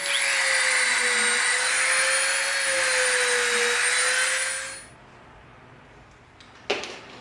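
A Dremel rotary tool shapes EVA foam for a Green Hornet gas gun prop, a high, steady whine holding for about five seconds before spinning down, then a brief click, close and with no talking.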